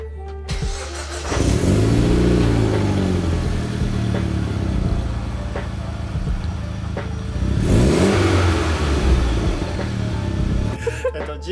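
A Mitsubishi Lancer Evolution engine revs up hard twice, a steady idle between the bursts, loud and close with a rough mid-range growl.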